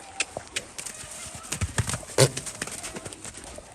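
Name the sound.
gaited horse cantering hoofbeats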